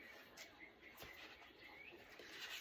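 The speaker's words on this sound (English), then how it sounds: "The birds in the background." Faint birds call in the distance outdoors, brief chirps and coos scattered thinly over a quiet background, with no voices.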